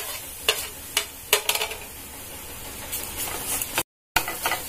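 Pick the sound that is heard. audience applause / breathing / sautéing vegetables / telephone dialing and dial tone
sautéing vegetables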